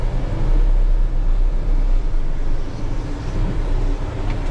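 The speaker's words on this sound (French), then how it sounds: "On va garer le chariot à sa place." Hyster forklift truck rolling slowly to its parking spot, a steady low engine drone with a broad even rumble throughout, close and continuous with no talking.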